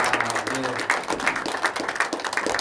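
A church congregation claps steadily throughout at a Thanksgiving Sunday service, dense and lively, with a voice speaking over it.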